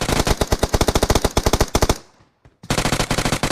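Rapid automatic gunfire from a weapon in the PUBG Mobile battle-royale game, a loud fast stream of shots that breaks off for about half a second before another burst resumes.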